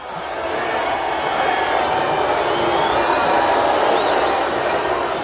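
A large boxing crowd in Rocky IV fills an arena with a dense, loud roar of cheering and murmur as a fighter walks toward the ring, and a voice talks over it.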